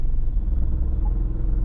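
A Mitsubishi Pajero with the 3.2 diesel engine idles in drive with the brake held, a steady low rumbling drone with faint vibration, close and continuous without voices.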